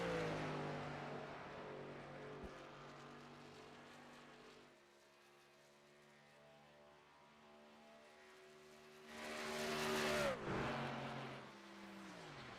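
A NASCAR truck runs a qualifying lap at Atlanta, its engine a faint, steady harmonic drone that dips in the middle and then swells louder for a few seconds as it passes closer, before fading again.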